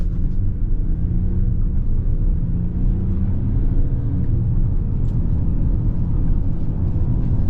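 A 2024 Lincoln Nautilus Reserve with the 2-liter gas engine and 8-speed automatic gives a steady low engine and road rumble from inside the cabin, with no talking.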